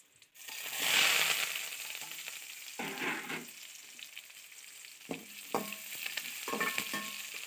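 Curry leaves and onion hit a hot pan for a mushroom gravy, bursting into a loud sizzle that fades, followed by short scraping bursts of stirring with a spatula and a low crackle underneath.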